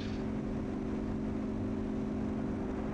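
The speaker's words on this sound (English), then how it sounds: "I can literally hear your engine roaring" A Yak-52 engine roars steadily in the DCS World flight game, a constant droning hum held at even loudness throughout with no voices.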